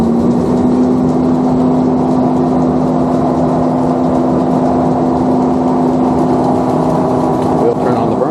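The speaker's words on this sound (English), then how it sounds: "So we'll start up the roaster" The motor of a Probat UG15 coffee roaster, reassembled after a move, runs with a steady mechanical hum and a constant whirring drone, loud and unbroken from start to finish, with a voice talking over it.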